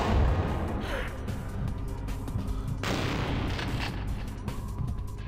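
Gunfire in Vampire: The Masquerade - Bloodlines: a dense, continuous barrage of booming shots and bursts that runs the whole time without letting up.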